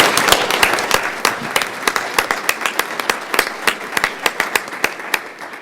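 A school committee audience applauds its students with a full round of clapping that runs steadily throughout. Individual sharp claps stand out near the end as the ovation thins.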